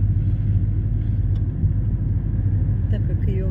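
A car drives along Parkovaya street, a once-asphalted road, with a steady low engine and tyre rumble heard from inside the cabin.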